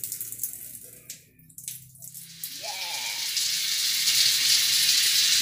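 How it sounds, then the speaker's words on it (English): Tap water starts running after a dry moment, a soft hiss that builds into a steady splashing stream with brief voices early on. "May tubig na."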